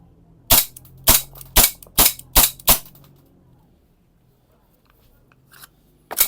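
A DBell Pit Viper JW4 gel blaster pistol is test fired as six sharp, evenly spaced snapping shots close by, followed by a quiet pause and a fainter click or two near the end.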